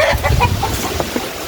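Hens cluck in short, uneven calls from a coop where eggs are being gathered, close by and over a steady background noise, with no talk.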